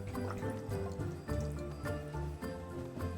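Water draining freely down a newly unclogged bathroom sink, a close, gurgling, bubbly flow with irregular drips and glugs running steadily throughout.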